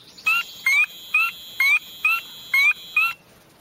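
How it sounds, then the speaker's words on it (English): A spring peeper frog gives seven short, high, clear peeps in an even rhythm, loud and close, with nothing else heard. "The spring peeper, of course, peeps."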